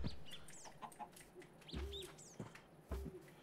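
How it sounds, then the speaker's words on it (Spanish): Chickens cluck and a rooster-like call rises over a busy video game farmyard mix, with several clucks and higher bird chirps scattered throughout. "aquí estoy escuchando unas gallinas"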